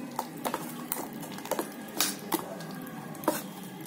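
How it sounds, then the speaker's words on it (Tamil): Okra adai dosa batter being mixed in a bowl, heard as a rapid series of wet, squishy taps and clinks of a utensil against the bowl, fairly quiet and close. "இதை நல்லா மிக்ஸ் பண்ணி விட்டுக்கலாம்"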